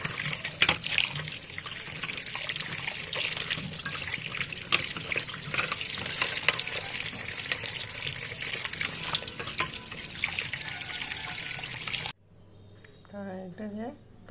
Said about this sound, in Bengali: ভালো করে মাছগুলোকে প্রথমেই একটু আগে ধুয়ে নিচ্ছি